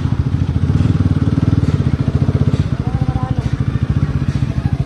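A motorcycle fitted with an aftermarket exhaust runs close by with a loud, rapid, throbbing engine putter while people talk over it.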